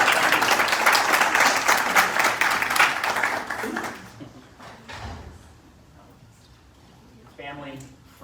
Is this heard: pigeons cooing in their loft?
no